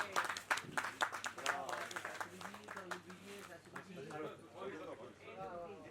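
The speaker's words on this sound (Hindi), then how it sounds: "दिलीप जी के लिए तालियां" Guests at a ghazal music function clap for Dilip ji in a short burst of sharp, close hand claps, which soon give way to someone speaking.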